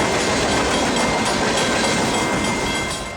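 Santa Fe freight trains meeting and passing on the Valley Division line, a loud, steady roar of wheels and railcars with clickety-clack rhythm, continuous and close throughout.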